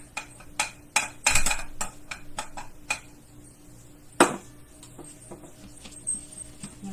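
A plastic lid is fitted onto a Pampered Chef Deluxe Cooking Blender jug of potato soup, giving a series of sharp clicks and knocks, one louder snap near the middle, close up and without talk.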